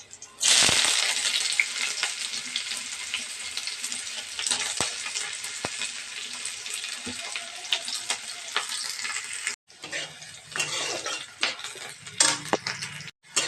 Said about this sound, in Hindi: ये पियाज को भाजुछि।